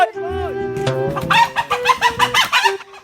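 A rooster on Siquijor crows loudly up close, then breaks into a quick run of rhythmic, throaty clucks that trail off after a few seconds.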